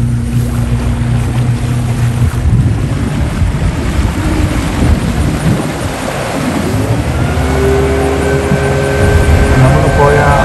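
A motorboat on a water ride at Galveston Bay, its engine a loud, steady roar with rushing water and wind all the way through, while people talk over it.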